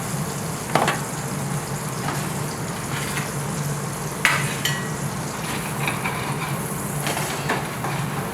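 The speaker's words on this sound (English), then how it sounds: "Fresh butter on the mushrooms." Fresh butter sizzling on mushrooms in a pan in a three-Michelin-star restaurant kitchen, a steady close frying hiss with occasional sharp clinks and scrapes of utensils, and no talk.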